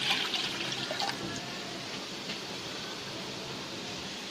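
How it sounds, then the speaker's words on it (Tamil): Water poured into a container, a full cup of about 250 to 300 ml for a rasgulla sweet recipe, giving a steady splashing pour that is strongest at the start and then settles into a softer, continuous trickle with no talking. "இப்போ ஒரு கண்டெய்னரில் ஒரு ஃபுல் கப் வாட்டர் எடுத்துக்க போகிறோம்."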